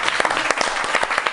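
Youth football players of Mantovana Junior clapping for their coach during a local sports TV segment, a short burst of close, uneven hand claps with no voices.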